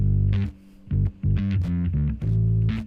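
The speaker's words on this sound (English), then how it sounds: "so that grit that's coming out of it is like from the distortion on Dark Glass" A slapped bass guitar plays through Darkglass distortion in a polished pop mix. Punchy, gritty notes sit low and come in short rhythmic bursts with brief gaps between phrases, loud and upfront with no talking.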